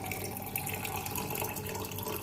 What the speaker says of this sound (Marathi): पाणी घालून घेऊ